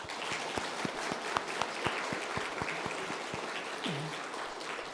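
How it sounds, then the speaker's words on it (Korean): A church congregation applauds children at a Sunday service, a steady, even wash of many hands clapping together that carries on for several seconds at moderate loudness with no talk over it. "큰 박수로 격려해 주시기"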